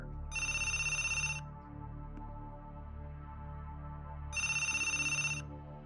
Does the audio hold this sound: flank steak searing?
no